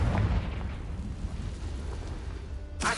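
Confringo, a fire spell in a video game, sets off a deep rumbling blast that rolls on and fades, ending in a brief bright burst.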